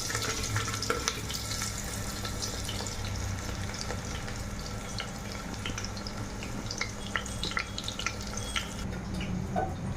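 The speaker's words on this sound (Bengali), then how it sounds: "এরপর কেটে রাখা পেঁয়াজ কুচি দিয়ে দিচ্ছি" Chopped onions frying in hot oil with cinnamon and cumin in a pan, a dense continuous sizzle with scattered crackles and occasional stirring scrapes, close and steady.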